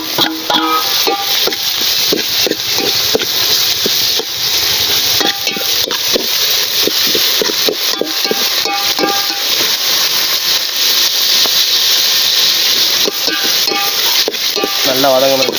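Chopped tomatoes sautéing in a hot pan with curry leaves for village-style country chicken gravy: a loud, constant hiss and sizzle with occasional scrapes and clinks of stirring.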